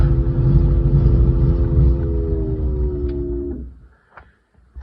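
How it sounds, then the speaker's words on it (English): The electric fuel pump of a 1979 Subaru BRAT runs with a steady low mechanical hum and faint whine, droning close by for several seconds, then cuts off, leaving near silence with a few small clicks. "You can hear that pump."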